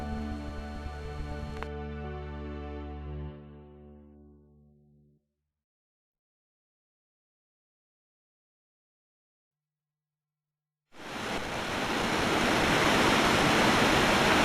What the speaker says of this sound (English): Beautiful waterfall on Vallecito Creek